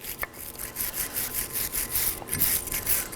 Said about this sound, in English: I'm using a wire brush.